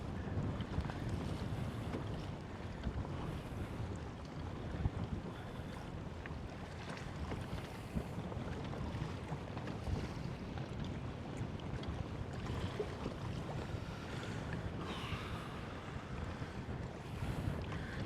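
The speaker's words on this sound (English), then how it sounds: "That's just wind coming in" Gusty wind roars across open water around a Hobie PA 14 kayak fitted with balloon tires, a loud continuous rumbling rush of wind noise on the microphone mixed with choppy waves, with no voices.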